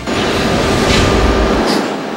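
A new MRT-3 light rail train built in China rolls along its rails with a loud, continuous rumble and rushing wheel noise, heard close by.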